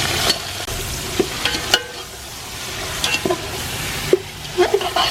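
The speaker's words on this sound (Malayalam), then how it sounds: "ഇങ്ങനെ ഇളക്കി കൊടുക്കുക." Chicken is stirred in a pan for Yemeni madhhooth, a soft sizzle running under scattered scrapes and light knocks of the spoon against the pan, fairly close.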